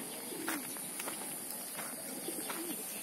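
Pigeons coo softly nearby, a few drawn-out calls rising over a steady background hiss, with no one talking.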